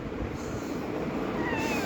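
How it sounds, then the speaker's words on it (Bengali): A cat receiving first aid gives a short, faint meow near the end over a quiet background hiss. "আমাদের সাইফুল আর স্যার বিড়ালের প্রাথমিক চিকিৎসা করতেছে।"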